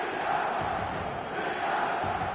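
A football stadium crowd in a video game calls out in a steady, broad roar, loud and continuous throughout.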